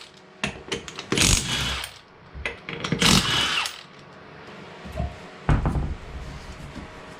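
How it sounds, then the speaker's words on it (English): Lug nuts coming off the front wheel of a Kubota BX compact tractor, 19mm, with several short bursts of tool noise and clanks separated by brief pauses, close and fairly loud. "Rip these lug nuts off real quick."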